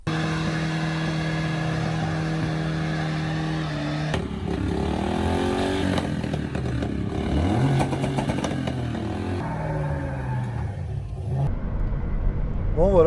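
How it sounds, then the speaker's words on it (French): A Volkswagen Corrado 16V drives along with a steady, continuous engine drone throughout; the tone shifts slightly partway as it moves, and some faint talk mixes in. "je vais essayer d'en profiter en roulant un petit peu avec cette voiture"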